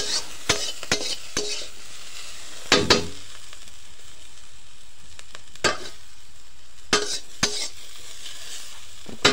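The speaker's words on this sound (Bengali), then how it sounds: "খালি কড়াইয়ের শব্দটা" Food stirs and fries in a wok, a soft steady sizzle broken by sharp scraping and clanking of a utensil against the pan at irregular intervals, close and fairly quiet, without talking.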